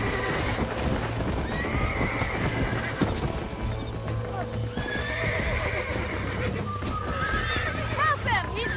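In Red Dead Redemption, horses whinny repeatedly over steady clip-clopping hooves and a busy bed of background music, with shouted voices breaking in now and then.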